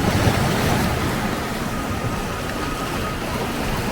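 Ocean waves wash steadily against the shore at the Meoto Iwa wedded rocks in Ise, a continuous broadband surf roar with no distinct breaks, fairly loud and close.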